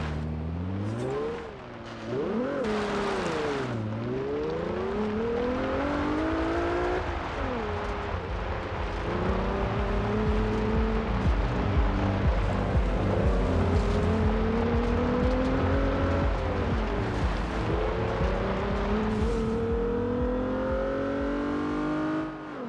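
Renault Clio in a Forza racing game revving and driving, its engine pitch sweeping up and down through repeated rises and falls, loud and steady with no talk over it.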